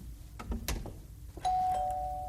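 A doorbell rings indoors with a clear sustained ding tone after some brief knocks and thumps, moderately loud and alone.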